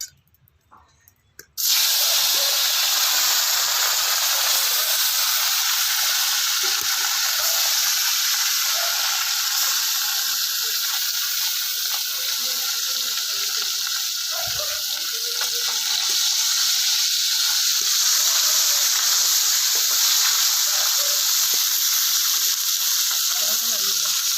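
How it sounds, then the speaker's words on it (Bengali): Fish sizzles loudly in hot mustard oil in a home kitchen, a steady dense crackle that starts abruptly after a quiet moment and holds on without a break. "সর্ষের তেল দিচ্ছি গরম হয়ে গেছে আমি মাছটা ভেজে নেবো"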